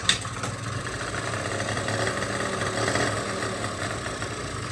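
A scooter chopped into a mini bike runs rough and keeps nearly stalling, its small engine sputtering steadily at close range with no talk over it.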